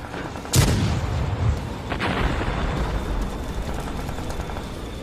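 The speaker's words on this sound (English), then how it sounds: "Just keep on shooting." An animated battle fills with heavy booms of artillery and bursts of gunfire. Two sharp explosions stand out over a continuous, loud rumble of combat.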